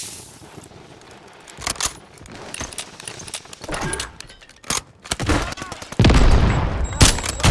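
Warzone 3 Rebirth Resurgence gameplay gunfire, with loud sharp shots and rapid bursts echoing alongside clinks and thuds, growing denser toward the end.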